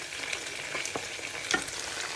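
Pork neck frying in a pan with a continuous close sizzle, broken by a few sharper crackles and stirring scrapes.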